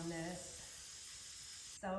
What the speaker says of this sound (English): Okay, so I'm just gonna like spray some seal on this.